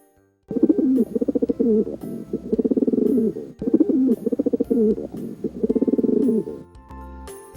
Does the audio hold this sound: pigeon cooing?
yes